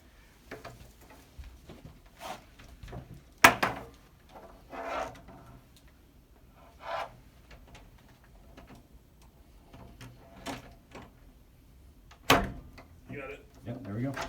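A locked office door is opened from the outside with an under-door tool that pulls the inside handle down. Sharp clacks and thuds of the latch and handle stand out among scattered scraping and rattling, with people talking softly throughout.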